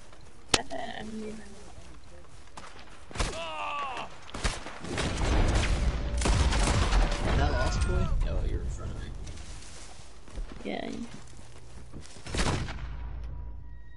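Gunfire in the online western game Red Dead Online, a sharp shot followed by a dense, loud burst of overlapping shots mid-clip and a few scattered cracks later, with people talking throughout.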